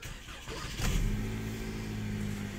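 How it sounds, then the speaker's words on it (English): A 2013-2015 Chevrolet Malibu LT with its 2.5L engine starts up, then settles into a steady, fairly close idle with a low, even hum. "You can see it is cranked up and running here. The engine sounds pretty good."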